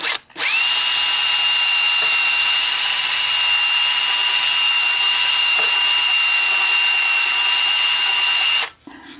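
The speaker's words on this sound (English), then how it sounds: "And now we've got a little hone. And that'll go right down in there, nice and tight." A drill-driven hone works inside the chamber of a Mercedes-Benz W114 heater valve, producing a loud, steady high-pitched whine close up that runs continuously for several seconds before stopping.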